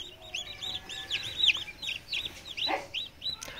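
Tiger, layer, Fayoumi, Egyptian and desi chicks cheep in a steady flurry of short, high chirps, with occasional soft clucks, moderately close and fairly quiet.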